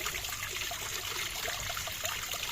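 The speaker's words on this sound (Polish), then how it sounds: "już pada deszcz" Rain falling at a mini zoo, a steady even hiss of drops and trickling water with no voices.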